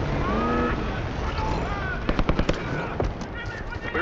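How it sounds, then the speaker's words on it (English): Gunfire in the video game Call of Duty Black Ops 6 breaks out as a rapid burst of sharp close shots followed by scattered single cracks, under someone speaking over a radio and constant battle noise. "We're taking heavy fire at the helo."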